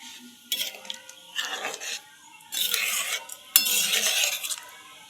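Spice paste for a katla fish kalia bubbles and sizzles in a pan. Metal spoon scrapes and clinks come in several bursts, loud and close, between quieter stretches of soft simmering.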